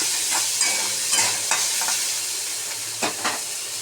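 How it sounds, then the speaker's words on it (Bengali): Chopped onions sizzle steadily in hot oil in a pan for a South Indian chitranna rice dish, with intermittent scraping stirs of a spoon standing out over the constant frying hiss; no one speaks. "পেঁয়াজ কুচিগুলো দিয়ে দিয়েছি"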